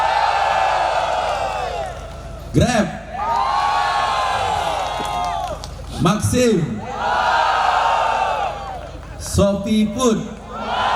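A large gathering of ride-hailing drivers in Pekanbaru, Indonesia, erupts in loud cheers, whoops and shouts in repeated bursts. Between the bursts, an amplified voice calls out to the crowd.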